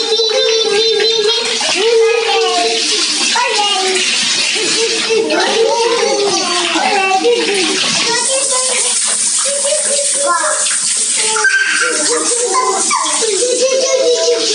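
Young triplet girls splash and play in a filled bathtub, with continuous close sloshing and dripping water throughout and children's voices chattering over it.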